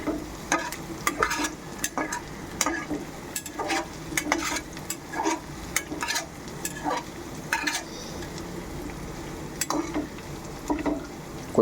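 Onions frying for chicken fry, with a spoon stirring and scraping the pan in repeated strokes over a steady close sizzle, no talking.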